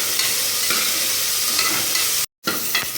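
Ingredients sauté in a hot pan for kaalan kulambu, a mushroom curry, a bright continuous sizzle with occasional spoon scrapes, close and loud, with a brief dropout near the end and no talking.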